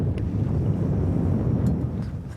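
Strong wind roars across the microphone on an open bass-fishing boat, a loud, steady low rumble that buffets and gusts without pause.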